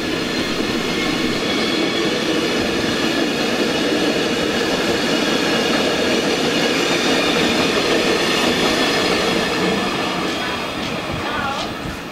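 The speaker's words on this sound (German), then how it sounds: "Von dort kommt gerade der Glacier-Express und fährt weiter nach St. Moritz" The Glacier Express of the Rhaetian Railway rumbles past in the Albula valley, a loud continuous roar of wheels with faint clatter and a brief squeal toward the end.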